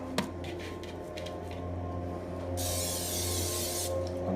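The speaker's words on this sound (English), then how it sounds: "I'm going to spray the bottom with a little bit of cooking spray to help it" A can of cooking spray hisses onto a baking dish in one steady burst lasting over a second, near and fairly loud, after some quiet handling noises in a kitchen.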